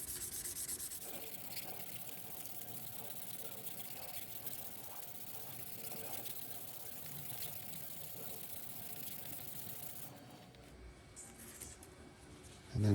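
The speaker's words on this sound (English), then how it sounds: "we take number 1 green pad and kind of sand it" A number 1 green abrasive pad rubs steadily across a surface in a continuous, faint scratchy hiss that stops near the end, followed by a brief louder knock.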